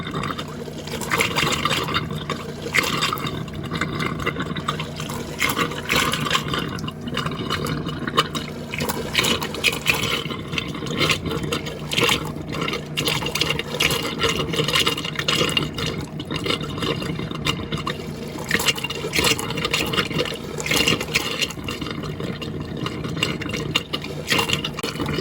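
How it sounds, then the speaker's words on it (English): Hot water runs steadily from a tap in an RV plumbing system flushed with pink antifreeze, a continuous rushing, splashing stream of moderate level that carries on unbroken for the whole stretch with no talk. "Now we're going to turn on the hot water and let it run until we get some pink."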